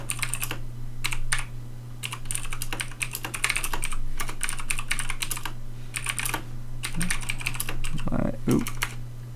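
Bursts of keystrokes clatter on a computer keyboard in irregular runs with short pauses, close and clear over a steady low hum, while someone writes a batch file for a WinRAR backup program.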